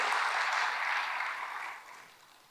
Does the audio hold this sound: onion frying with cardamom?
no